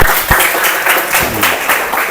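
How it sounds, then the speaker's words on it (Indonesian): A classroom audience of students claps together in a dense burst of applause, close and loud for a couple of seconds with a few louder individual claps standing out. "Luar biasa, tepuk tangan."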